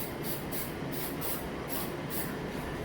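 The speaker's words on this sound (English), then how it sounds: "you're gonna get your cheap white spray paint, hit right here" A steady hiss of cheap white spray paint runs continuously, with short rhythmic pulses of stronger spraying repeating across it.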